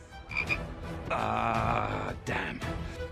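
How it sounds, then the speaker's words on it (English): A frog croaks loudly and close in a scene from the Loki series featuring Thor turned into a frog, with a few deep, rasping croaks separated by brief pauses and no talking. "You turned me into a frog!"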